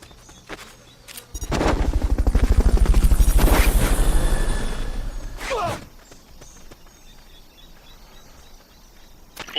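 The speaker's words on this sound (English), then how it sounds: "Fulton recovery subject confirmed onboard helicopter." A Fulton recovery helicopter in Metal Gear Solid Peace Walker, a loud, close rotor roar with rapid chopping that swells in, holds for about four seconds, then cuts away, with brief clicks before and after.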